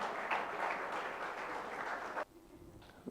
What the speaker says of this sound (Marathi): जोरदार टाळ्या झाल्या पाहिजे यांच्यासाठी